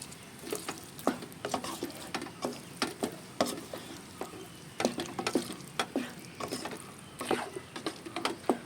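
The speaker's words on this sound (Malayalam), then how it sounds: "നമ്മുടെ താളി ഒഴിച്ചു കൊടുക്കാം നല്ലപോലെ ഒന്ന് മിക്സ് ചെയ്യാം" Paal kappa, tapioca cooked in milk, is stirred in a pan after tempering is poured in, giving a steady rhythm of close, wet scraping strokes with a faint sizzle underneath.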